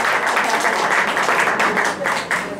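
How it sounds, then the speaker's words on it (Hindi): Steady broadband applause from an audience at a Sufi music event, sustained and fairly loud, with some voices mixed in. "तालियां बजती रहे थोड़ी देर और"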